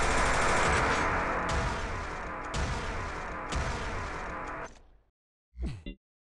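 Rocket launcher firing in Quake 3 DeFRaG: loud, dense explosive blasts roll one into the next, with sharp new bursts about every second. They fade into a brief silence, then one short whooshing shot follows.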